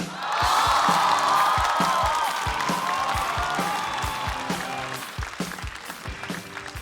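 A stand-up comedy audience breaks into loud applause with cheers and whoops to welcome a comedian onstage. The clapping starts strong, holds, and gradually thins out toward the end.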